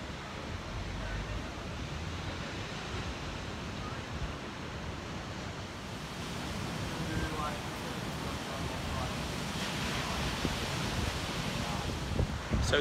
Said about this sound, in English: always a lovely sort of surf break and a gorgeous beach